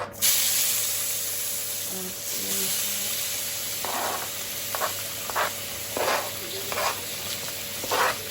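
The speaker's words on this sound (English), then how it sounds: "So now we're gonna add to the oil peppers and onions" Peppers and onions sizzle in hot oil on a stovetop for a soul-food smothered chicken, a steady close hiss broken by brighter bursts and light clinks as the vegetables are moved about.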